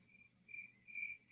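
Crickets chirp in steady repeated bursts, loud and close, with a low background hum and no voices.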